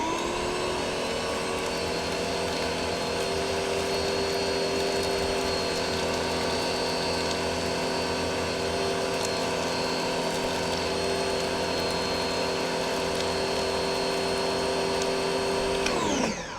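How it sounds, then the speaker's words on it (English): A new electric pressure washer starting up for its first run, giving a steady, loud mechanical whine and hum with a constant tone that holds unbroken for about sixteen seconds before cutting off. "So we're gonna turn it on for the first time and give it a little run here, make sure it works."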